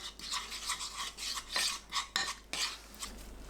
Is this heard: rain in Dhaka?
no